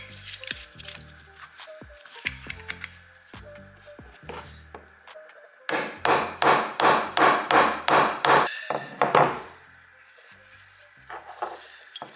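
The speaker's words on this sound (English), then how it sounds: "I'm gonna hammer at this." Hammer strikes on a socket drive a bearing out of a Ducati Streetfighter V4S wet clutch cover. About ten loud, sharp metallic blows land in a quick, steady series, with lighter scattered knocks and handling clatter before and after.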